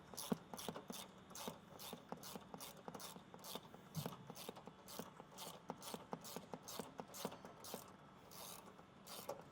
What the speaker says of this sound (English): Now with the 5/16, we'll remove the bolt connected to the fender.